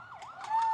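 A brief burst of an ambulance siren swoops up and down on a street in Salem, Tamil Nadu, during a political walking tour, close and fairly loud with the wail swelling toward the end.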